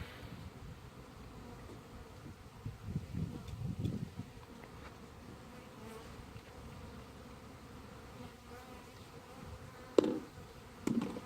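Faint, steady insect buzzing drones through the background, with a few louder, closer bursts of sound near the end.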